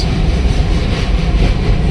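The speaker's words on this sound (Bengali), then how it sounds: "সেই ব্রিজের উপর থেকে এই মুহূর্তে ট্রেন ধীরে ধীরে সামনের দিকে এগিয়ে যাচ্ছে" A train moving slowly across the bridge at Hirakud Dam, a loud steady low rumble and roar filling the whole moment, close and continuous with no talk.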